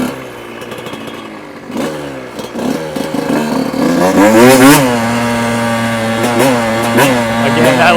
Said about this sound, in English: that little bit of engine braking